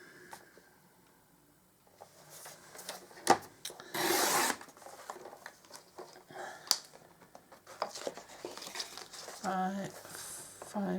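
Paper card is cut to 11 1/2 by 5 1/4 inches for a daisy notelet gift box, giving scattered rasping, rubbing strokes and a louder slicing burst, with faint shuffling in between.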